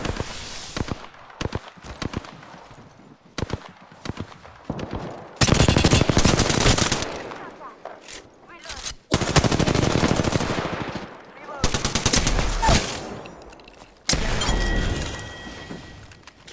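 Gunfire erupts in Apex Legends, several loud bursts of rapid automatic shots separated by quieter gaps, close and punchy, with occasional in-game voice callouts between exchanges.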